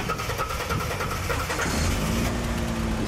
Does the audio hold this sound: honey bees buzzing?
no